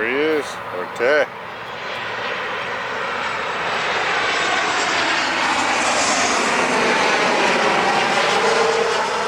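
A Delta Boeing 757 jet lands with a loud, sustained roar of engines swelling and holding steady as it passes, after a brief voice at the start.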